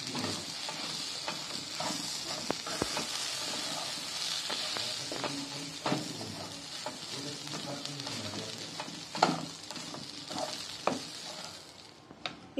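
Dalia and dal crackle and sizzle while toasting in a pan for khichdi, with frequent stirring clatters and scrapes over a continuous frying hiss, close up and without speech.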